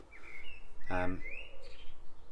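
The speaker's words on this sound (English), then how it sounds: "Songbirds." Songbirds sing as an added effect: a few bright chirps and a short whistled trill, brief and moderately close over faint background hum.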